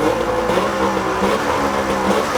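Turbocharged engine of a Polaris Indy 650 snowmobile running indoors after a turbo install, a loud steady mid-pitched drone with a continuous whirring hum and no pauses.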